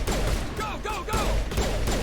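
Rapid gunfire bursts rattle through a firefight in Mass Effect Legendary Edition, with several sharp shots in quick clusters mixed with game sound effects and a brief voice.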